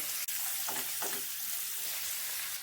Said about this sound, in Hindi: इन्हें भी डाल देंगे साथ में और इन्हें 2 मिनट तक भून लेंगे।